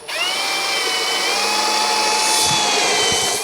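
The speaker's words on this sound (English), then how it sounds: "I'm going to just pre-drill a couple of holes" Whining power drill pre-drilling pilot holes for screws while building a solar wax melter, running steadily for a few seconds, pitch wavering slightly, ending with a couple of knocks as it stops.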